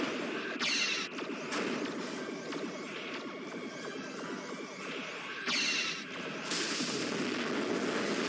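Pulse phaser fire sounds in a Star Trek ship battle game. A heavy, continuous rumble carries several sharp, booming bursts that stand out clearly against it.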